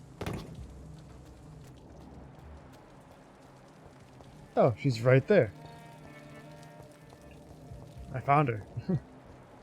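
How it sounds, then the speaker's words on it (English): Steady rain falls at night in the video game Vampyr, a soft continuous hiss beneath the scene while a person talks briefly over it. "and it's still raining."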